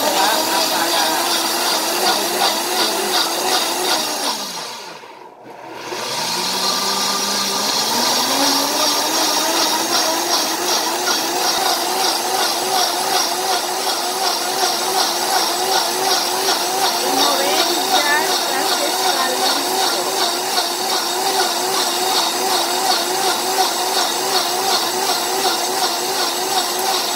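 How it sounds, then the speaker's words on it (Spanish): A kitchen blender grinding herbs for a natural stomach-cleansing drink, a loud continuous whirring that dips briefly near the start then settles into a steady high-pitched grind. "voy a ponerlo a moler"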